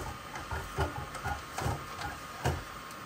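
A Bambu Lab P1P 3D printer unloads filament, its motor giving a series of short mechanical whirs and clicks at close range against a steady background hum.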